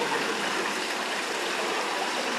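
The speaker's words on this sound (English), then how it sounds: "Oh, nice water feature. I think that's where it recycles the water and filters it." A greenhouse water feature that recycles and filters its water, giving a steady, fairly loud trickle and gush of flowing water, continuous like a small stream, with no one talking.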